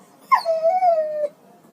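A lost puppy found in a park gives one clear, drawn-out whimper, a high yelp that slides into a steady whine lasting about a second, close and alone.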